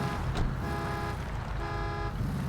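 A loud car engine in GTA Online rumbles steadily and up close, a dense low drone with a tonal whine layered on top, running continuously without pause.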